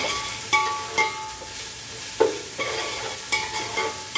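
Chicken biryani masala fries in a pan while a ladle stirs it, with distinct scraping strokes repeating roughly every half second over a low, steady sizzle, close and alone.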